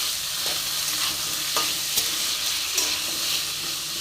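Vegetables and peas fry lightly in a little oil for vegetable biryani, a steady close sizzle with a few stirring clinks and scrapes of the spoon, no voices.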